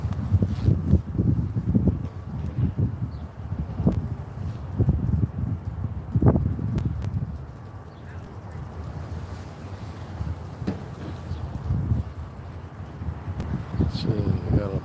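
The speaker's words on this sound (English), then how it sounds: "the wind is picking up a little bit" Wind picking up on a cool fall day in Kansas City, rumbling as gusty buffeting across the microphone, loud and continuous, with faint outdoor ambience underneath.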